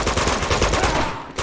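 Rapid automatic gunfire rattles in Uncharted 2 Among Thieves, a dense continuous burst of shots, loud and close, cutting off near the end.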